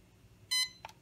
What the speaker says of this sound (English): speed number 2 indicated by 2 beeps